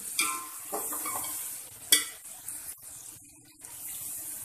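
Yogurt being stirred into a sizzling spice masala of fennel and crushed coriander for chana pulao, with soft frying hiss, scraping stir strokes and one sharp clink of a utensil near the start.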